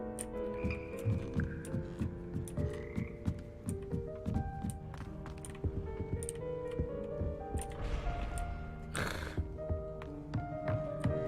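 Magical frogs of the Hogwarts Frog Choir in the video game Hogwarts Legacy, croaking in layered sustained pitches like a multi-part harmony, with scattered soft clicks and a brief noisy burst near the end.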